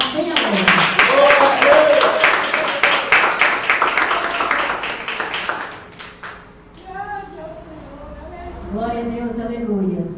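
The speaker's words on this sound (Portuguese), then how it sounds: "Pode louvar o Senhor com as palmas bem abertas" A church congregation claps hands in praise, loud, fast and fairly rhythmic, under a speaking voice. The clapping thins out and stops partway through, leaving speech alone.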